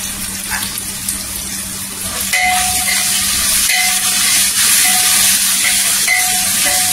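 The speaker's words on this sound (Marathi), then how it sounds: "इथे तेलावर परतून घ्यायचं" Crushed ginger and garlic sautéing in oil for dal, a loud steady hiss of frying that swells partway through, with faint scrapes of stirring and no speech.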